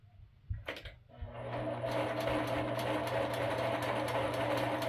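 A domestic sewing machine runs steadily at a constant whir after a few short clicks and starts at the beginning, close up and fairly loud while it is threaded and tested.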